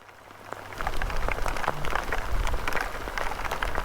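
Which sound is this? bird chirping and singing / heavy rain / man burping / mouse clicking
heavy rain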